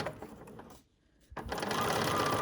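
A sewing machine stitching fabric for a reversible bag hums steadily, close and clear, stopping briefly for a quiet pause before starting up again in a continuous whirring run.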